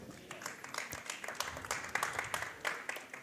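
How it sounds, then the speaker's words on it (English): Quiet, scattered golf clap from a small group during a BLAST Premier 2020 esports match, 100 Thieves vs G2, goes on for a few seconds, soft and somewhat distant, with light background murmur. "That deserved a golf clap."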